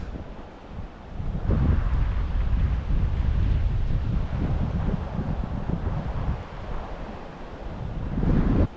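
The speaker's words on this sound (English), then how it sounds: "Starting to get a little windy" Steady wind buffets the microphone beside a creek near Green Lake in the Eastern Sierra, a low, rumbling roar that swells and fades, with a faint wash like water in the background.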